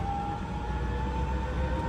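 A steady high electric car motor whine holds a constant pitch over a broad rumble of road noise, continuous and fairly close, with no talking.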